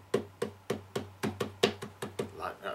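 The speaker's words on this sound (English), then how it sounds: "Lots of clapping." Hands clap in a steady rhythm along to a song, about ten sharp claps over a low sustained hum, close and even-paced.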